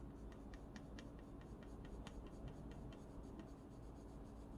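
A pencil or coloring tool rubs red color onto the hair of a drawing in quick, rhythmic scratchy strokes, very faint and close, with nobody talking.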